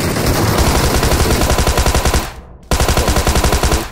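Loud automatic gunfire in a shooter video game: rapid, evenly spaced shots in long bursts, close and dominant, with a short gap before firing resumes.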